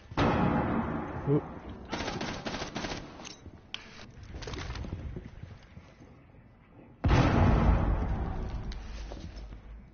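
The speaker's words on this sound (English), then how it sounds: "let him shoot the one on your left" Gunfire in a PS4 survival shooter game, with bursts of rapid shots and sharp cracks, a quiet stretch in the middle, then a loud blast near the end. People talk over the gunfire at points.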